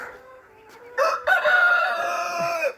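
On a village farm a rooster gives one loud, close, drawn-out crow over soft clucking from nearby chickens.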